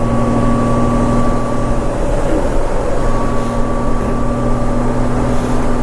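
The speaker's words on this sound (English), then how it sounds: "took it off choke. It's idling fine." A 1500cc Honda Goldwing motorcycle engine idles steadily after warming up from choke on a cold day, giving a loud, even, continuous hum with no change in pace.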